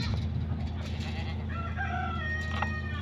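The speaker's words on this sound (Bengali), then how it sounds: "বিশাল বড় বড় সাইজ মুরগি।" Large farm chickens weighing around five to six kilograms cluck and call on a farm, with a faint crowing tone and low background murmur under a steady din.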